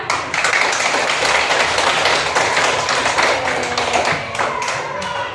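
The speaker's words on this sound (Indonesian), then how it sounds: "tepuk tangan dulu ya." A classroom of pupils claps hands together in a dense, sustained burst of overlapping slaps, loud and close, continuing steadily for several seconds before thinning slightly toward the end.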